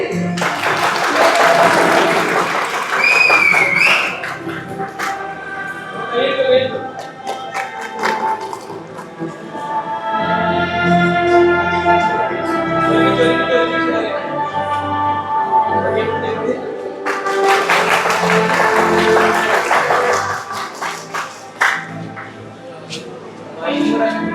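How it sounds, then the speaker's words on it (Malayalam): Wedding guests break into applause as the couple cuts their cake, with bursts of clapping at the start and again later, mixed with background music and voices. "എല്ലാവരും കൈയടിച്ച്"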